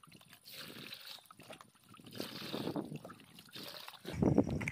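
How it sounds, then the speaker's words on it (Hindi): Water splashes and gurgles as it is poured into a bucket for dissolving NPK 0:52:34 fertilizer, growing louder and heavier toward the end, with faint handling noises. "उसके बाद आपको इसमें फिर से पानी डालना है।"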